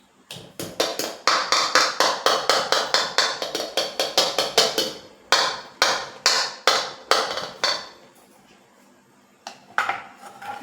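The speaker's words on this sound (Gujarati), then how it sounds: "ડ્રાય ફ્રૂટ એડ કરી અને બરાબર મિક્સ કરી લેશું." A spoon stirs cashews and almonds into shrikhand in a bowl, producing a quick, regular run of clinks and taps against the dish, with a short pause before the tapping resumes.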